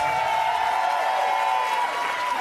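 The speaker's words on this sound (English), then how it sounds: "Let's give Queen Mother a round of applause." Continuous crowd applause and light cheering from a conference audience at a leadership celebration, steady and fairly loud, with a thin sustained tone running over the clapping.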